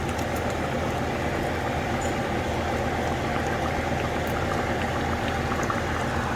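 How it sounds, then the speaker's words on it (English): Beef mechado simmers with steady, dense bubbling as tomato puree is poured into the pot, a close, continuous wet sizzle and burble with no talk. "Now we add our 16 ounces, 15 ounces of tomato puree."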